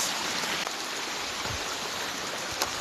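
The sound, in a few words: water flowing down over a beautiful rock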